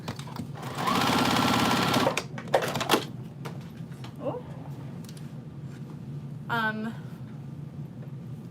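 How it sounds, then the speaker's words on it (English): A sewing machine stitching a zipper pouch, running in a steady mechanical whir for about a second, then short bursts of back stitches, heard close up while a person talks throughout. "what I like to do is just do some back stitches in the corners as a little bit of reinforcement"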